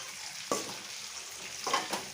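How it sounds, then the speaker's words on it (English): Sheek kebabs sizzle softly in a pan, with a few sharp scraping clinks of a utensil stirring at intervals. "I hope you can see the kebabs. They are nicely frying and they have nicely browned up."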